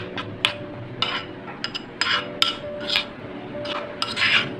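A spoon mixes spice mix into yogurt in a bowl, making a run of soft scraping strokes with light clinks against the bowl, close and fairly quiet, without talk.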